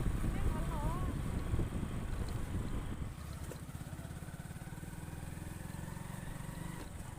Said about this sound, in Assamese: আজি বহুত দিনৰ মূৰত বাইক চলালোঁ